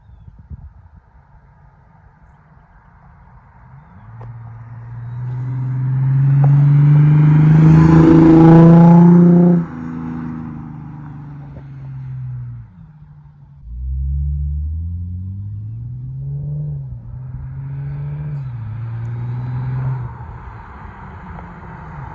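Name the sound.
loud Ford Mustang engine driving past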